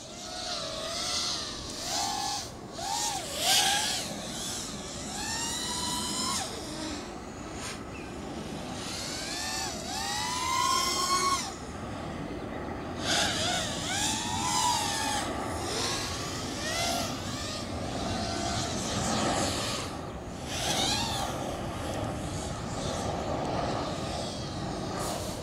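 An FPV racing drone with Racerstar SPROG-X 2205 brushless motors buzzes past, its whine rising and falling in pitch as the throttle changes, sometimes nearer and sometimes farther away, with no voices.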